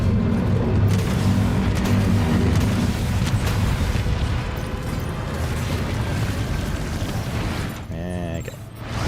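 Rocket launcher blast in Death Stranding 2, a heavy, booming roar that fills the opening seconds and slowly rumbles away, followed by a brief electronic warble near the end.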